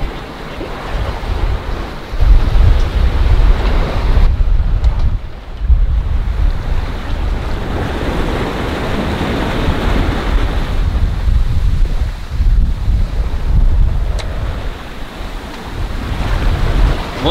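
Waves wash and slosh against a sailing boat under strong, gusty wind buffeting the microphone, continuous and loud.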